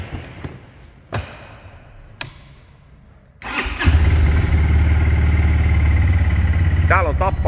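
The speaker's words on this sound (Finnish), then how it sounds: "Tällä puolella meillä on sitten starttikatkaisija, mistä lähtee mönkiä käyntiin." ATV engine started with its starter switch: a few short clicks and starter bursts, then the engine catches and settles into a loud, steady, rumbling idle up close.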